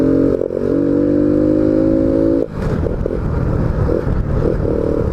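A Honda Biz 125 motorcycle fitted with a sport air filter, ridden on the road. Its engine gives a steady, buzzing drone for a couple of seconds, then turns into a rougher, louder rumble that carries on, close and loud.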